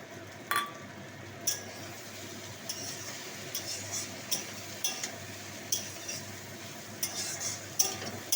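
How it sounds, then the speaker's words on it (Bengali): Fried fish pieces go into a simmering pumpkin curry, with a faint bubbling hiss and a utensil clinking against the pan at a regular, unhurried pace. "এবার আমি দিয়ে দেবো এতে মাছ"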